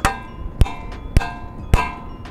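A hammer strikes a steel handcuff-style EROZ lock for a scooter or bike in four sharp, loud metallic blows, evenly spaced about half a second apart, each ringing briefly before the next.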